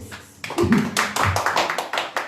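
A church congregation claps in a series of close, uneven bursts, with a few louder slaps standing out over the room.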